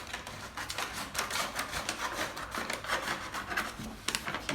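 Close, crisp crunching of scissors slicing through a plastic bag in quick, steady snips, with no talking.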